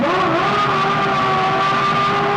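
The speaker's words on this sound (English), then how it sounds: "Hear that engine racing in the background." A Formula One car engine holds a high, steady whine, slightly falling in pitch, loud and continuous.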